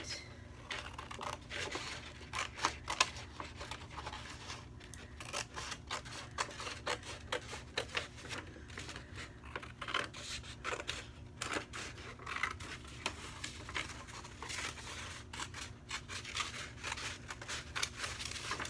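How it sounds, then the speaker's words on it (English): Scissors cut along the folds of a sheet of paper to make an envelope, producing a faint, steady stream of close snipping and crinkling with small irregular clicks. "So I'm going to cut this on those folds."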